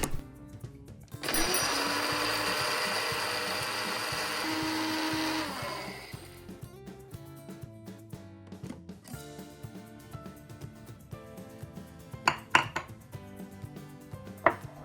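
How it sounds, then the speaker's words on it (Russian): An electric coffee grinder whirs loudly for about five seconds, grinding dried mint, rosemary, black pepper and salt, then stops, followed by quieter kitchen clatter and a few sharp knocks. "Все перебиваем в кофемолке."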